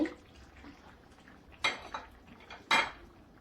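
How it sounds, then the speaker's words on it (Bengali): A metal lid clanks onto a curry pot for rajma with mutton, two brief sharp clatters over a quiet background. "ঢাকনা দিয়ে ডেকে তরকারিটা রান্না করে নেব"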